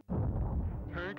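A tank blows up in the SNES game Spectre: a single loud, low blast that booms and rumbles, then tapers off into a brief tonal electronic sound.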